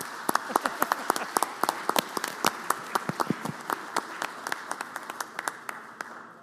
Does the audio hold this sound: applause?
yes